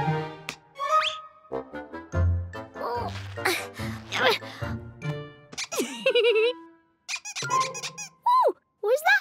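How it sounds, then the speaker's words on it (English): Rubber duck squeaks in a children's colour-learning cartoon, a series of short, high, sharp squeals scattered among cartoon sound effects and music, loud and close. "Then who made that squeaking noise?"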